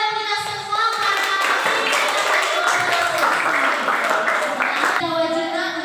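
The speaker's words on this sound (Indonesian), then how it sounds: "Tepuk tangan buat kita semua" Students in a classroom clap together at the end of a civics lesson, a brisk burst of hand claps mixed with children's voices under a teacher speaking over it.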